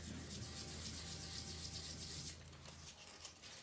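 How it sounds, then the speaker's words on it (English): Sandpaper rubbing steadily over a painted wooden animal figure to wear back the paint on high spots, a continuous close scratchy hiss that eases off slightly near the end. "I might take the sandpaper and I'm going to wear off here a little bit"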